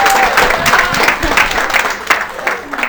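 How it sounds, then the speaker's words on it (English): Workshop audience applauds in a lively, fairly close round of clapping with distinct individual claps, continuing steadily for a few seconds. "you need to give yourself a round of applause"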